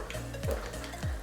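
Oil tempering with mustard seeds and curry leaves, a close continuous sizzle with two quick metallic scrapes of a spoon against the pan.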